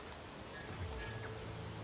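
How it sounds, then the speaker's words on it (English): Rain falls in the video game Warhammer 40k: Rogue Trader, a soft continuous wash of drops with low rumbling underneath, steady and moderately loud with no voices. "It's raining again."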